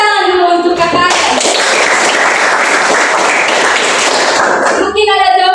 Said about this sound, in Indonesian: Tepuk tangan dulu untuk kakaknya.